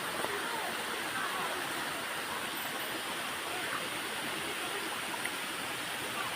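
Steady rushing water of a river, a broad constant wash of flow, close and even throughout with no pauses.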